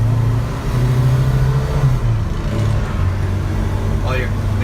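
A 1970 Alfa Romeo Giulia Super with a 1600cc engine idles while warming up on a chilly day, a loud, close, steady rumble that rises briefly as it revs, with someone speaking over it.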